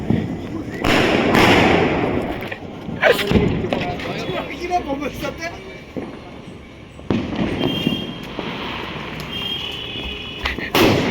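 Diwali firecrackers and rockets go off among friends, with sharp bursts and fizzing launches rising over a crowded, noisy scene while people talk loudly throughout.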